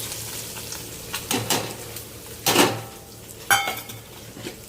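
Potatoes go into a hot pan with garlic chutney, giving a steady low sizzle broken by three louder bursts of frying and stirring clatter, close by and with no one talking.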